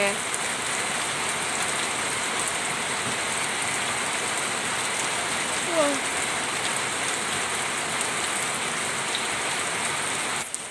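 Steady rain falling at Khao Yai in Thailand, a dense, even hiss of drops hitting surfaces that continues throughout at moderate loudness, with a faint brief sound partway through.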